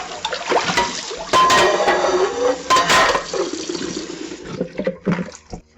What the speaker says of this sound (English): Just wash this out.